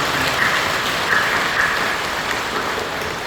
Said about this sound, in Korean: 우리 사랑하며 격려하며 박수 주십니다